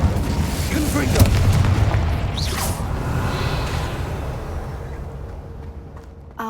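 A Confringo explosion spell in the video game Hogwarts Legacy, a heavy boom with a whooshing burst and rumbling tail that fades over several seconds while a voice speaks over it.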